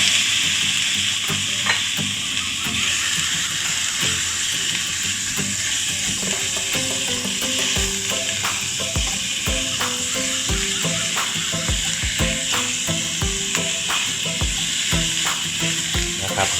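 Minced pork stir-fried with dill and curry paste in a hot pan, a steady close sizzle running throughout with repeated scraping and clacking of a spatula, no talking.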